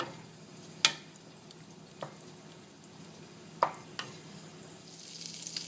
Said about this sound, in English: we've melted some butter and some oil in our hot pan, and we're just going to add our steaks. That's the noise you want to hear